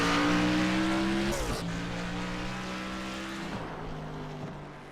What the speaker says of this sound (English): Looking at the number 29 car of Robert Mathis heading out to qualify